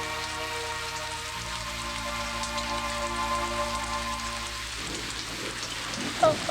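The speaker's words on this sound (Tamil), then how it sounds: "இந்த மழையிலையா?" Steady rain patters throughout a scene from a Tamil film, under a sustained musical drone that thins out toward the end.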